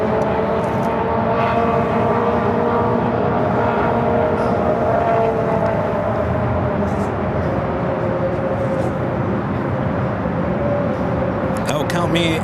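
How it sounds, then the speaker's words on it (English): A United Airlines Boeing 787-9 Dreamliner heavy jet, arriving at LAX from London Heathrow, produces a loud, steady, broadband engine roar that holds throughout, with background voices faintly present under it. "Another heavy heading our way, United Airlines Flight 935, coming up from London Heathrow."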